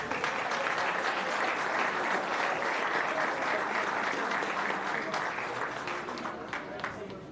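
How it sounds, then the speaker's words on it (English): Audience at a school board meeting gives a steady round of applause, dense clapping lasting several seconds and tapering slightly at the end, heard at a distance in a large room. "Let's give them a round of applause."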